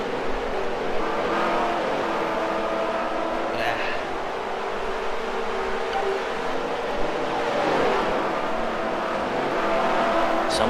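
Race cars run laps on a track in the video game Second Life, their engines a steady, continuous drone throughout with a voice talking over it.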